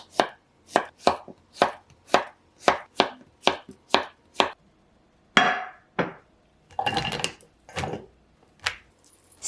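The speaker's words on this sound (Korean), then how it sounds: "애호박은 양끝은 잘라내고 반으로 자른 다음 어슷썰게 해줄게요" Knife slicing zucchini diagonally on a cutting board: a steady run of about ten crisp, evenly spaced chops, then a brief rustling scrape and a few more cuts, close and distinct with no talking.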